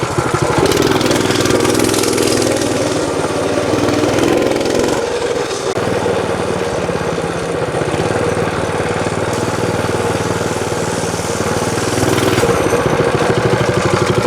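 A Coleman B200 minibike's 4-cycle engine runs steadily nearby, a smooth, loud, continuous mechanical drone with a brief dip in pitch partway through, and no talking over it.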